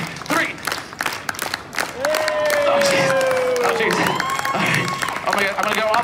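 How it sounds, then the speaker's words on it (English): An audience claps rhythmically on cue at a live circus show finale, sharp repeated claps mixed with crowd noise and a host talking over it, plus a rising tonal sound midway. "Actually, everyone, stop clapping."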